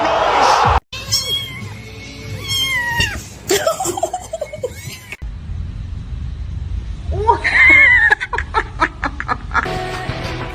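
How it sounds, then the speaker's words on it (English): A cat meows repeatedly, loud and close, giving a string of drawn-out yowling calls separated by short pauses, with faint chuckling in the background. "Meow, meow, meow, meow, meow,"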